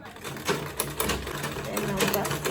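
A sewing machine stitching through Ankara fabric joined with leather on a bowler bag, a rhythmic close mechanical chatter of needle strokes running steadily, with a voice talking over it.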